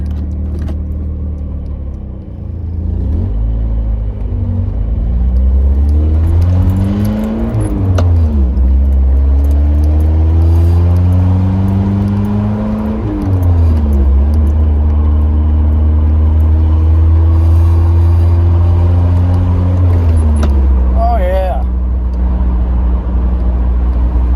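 Inside a 1986 Pontiac Fiero after a tune-up and distributor fix, the engine drones steadily while driving, rising and falling through several gear shifts over a continuous close rumble with no talk.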